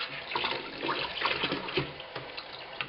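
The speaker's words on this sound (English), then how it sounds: "Stir away, Nettie Lou." Sugar water being stirred in a container to make bee feed, a steady close sloshing and swirling of liquid with no talking.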